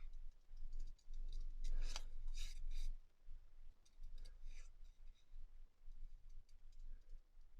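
Scissors cutting a butterfly shape out of paper, close and quiet, with rasping snips and rustling in uneven bursts.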